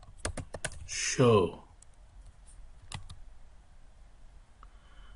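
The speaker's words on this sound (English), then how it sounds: "Go to the PC. And type" Quick bursts of keystrokes clatter on a computer keyboard as a command is entered on a PC, with a brief spoken word partway through and a few isolated key presses afterward.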